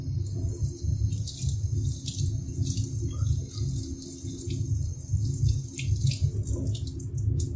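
Hands are rinsed of soap under a running tap, a steady close rush of water splashing into the sink throughout with small irregular spatters.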